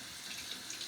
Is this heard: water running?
yes